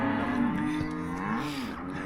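Hungry cattle in a yard moo continuously in long, low overlapping calls, close and steady, with no talking.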